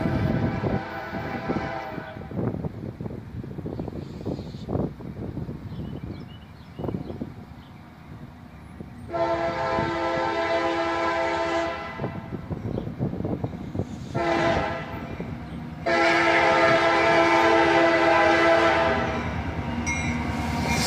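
CSX freight train hauled by old EMD locomotives passing on the main road crossing in Trenton, Ohio: steady rumble and clatter of wagons, with loud, sustained horn blasts sounding twice, close by.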